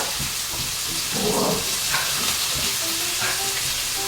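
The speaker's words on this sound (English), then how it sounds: "we're just waiting for the onions to, you know, caramelize" Onions fry in Italian olive oil in a pan for butter chicken, giving a steady close sizzle and hiss with light stirring scrapes, heard alone without talk.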